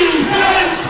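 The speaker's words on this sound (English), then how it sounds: "So now you can hear the crowd lifting the roof off the Worcester Arena." A basketball crowd roars loud and steady inside the Worcester Arena during a BBL Championship game between Worcester Wolves and London Lions, a dense sustained cheer with a few voices rising above it.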